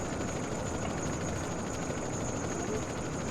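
Airplane engine in GTA San Andreas, a steady broadband roar with a constant high whine, continuous and fairly loud throughout with no clear speech over it.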